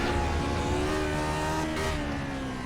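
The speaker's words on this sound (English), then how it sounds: "Hit the rev limiter there, going up that hill that time." Lotus 49 race car in the iRacing sim, its engine screaming steadily at the rev limiter while climbing a hill, a loud continuous high-pitched drone with slight stutters, alone with no talk.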